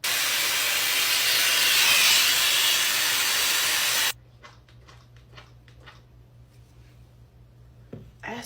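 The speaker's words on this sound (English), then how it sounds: "I'm gonna just blow dry this side so we can compare." A hair dryer blow-drying long hair gives a loud, steady rushing roar that cuts off abruptly partway through, leaving quiet faint handling noises and a soft thump.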